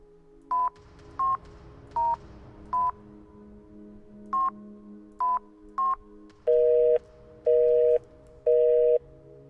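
Telephone in a point-and-click horror video game: seven short keypad tones dialed one by one, then three longer repeating busy-signal beeps, over a quiet humming background with no speech.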